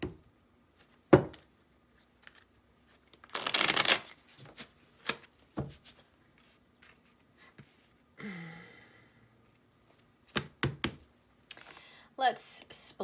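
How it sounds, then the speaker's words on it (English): A tarot deck being shuffled, with quick crisp riffles and light card taps in short separated bursts over a quiet room, close to the listener, and a brief voice sound partway through. "One more shuffle."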